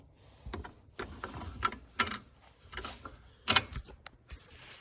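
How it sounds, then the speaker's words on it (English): Ratcheting and mechanical clicking as a part on a car is tightened down with a hand tool, in irregular short bursts of clicks and creaks, close and fairly quiet, with no talking. "I'm gonna tighten this down."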